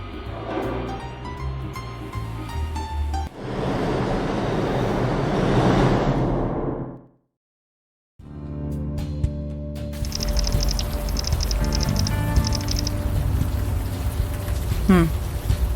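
Steady rain in the video game Unavowed, a broad hiss between game music and effects, cutting out briefly before returning under tonal game sounds.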